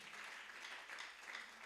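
An audience at a church ministry gathering applauds, a dense, continuous wash of many hands clapping that sounds faint and distant, with no talking over it.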